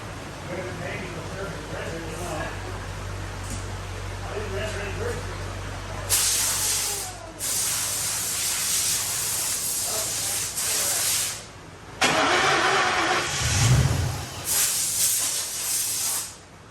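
A $500 Lincoln Town Car recovering from timing chain failure cranks and fires for the first time, broad engine and hiss noise rising in bursts, with people talking over it.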